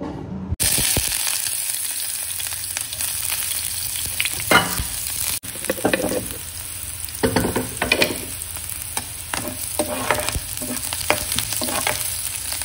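Onions and ground pepper sizzle and fry in a pan, a steady loud crackle with scraping stir strokes and spatula knocks recurring throughout, no talking.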